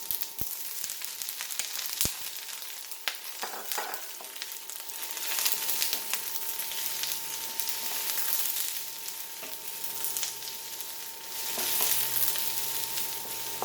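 Beef and broccoli stir-fry over high heat in a pan, a continuous bright sizzling hiss with occasional stirring scrapes and a few clinks, close and steady without speech.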